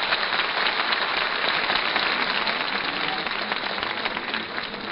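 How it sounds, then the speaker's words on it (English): A large crowd fills a town hall during an old-time radio comedy show, producing a loud, continuous wash of clapping and murmuring voices from start to finish. "They got quite a crowd here at the town hall."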